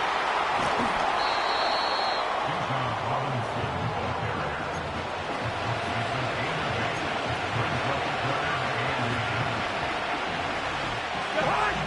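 Football stadium crowd roaring steadily as a game nears third down, a dense continuous wash of cheering and babble that stays loud throughout.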